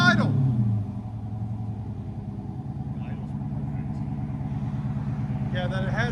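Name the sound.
2013 Dodge Charger SRT8 6.4L HEMI V8 idling, Jones mufflers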